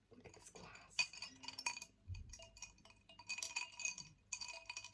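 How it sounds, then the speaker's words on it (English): Ice cubes clink against a glass of iced rosé, bright irregular tinkles and taps close to the microphone in a quiet setting, with faint soft speech in between. "I love the sound of ice."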